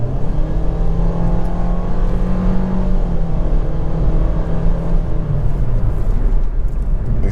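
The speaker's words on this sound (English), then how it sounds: "the Xtronic CVT does a pretty good job of getting to that power band when you need to" A car with an Xtronic CVT accelerates through city streets with a loud, steady engine drone inside the cabin, its pitch rising and holding smoothly without distinct gear shifts.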